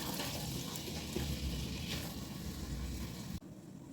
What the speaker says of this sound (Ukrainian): Смажую цибулю, нарізала кубиком.